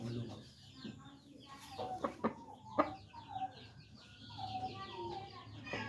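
Rooster clucking in its cage, a series of close clucks and short calls over a low background hum, with speech partly mixed in.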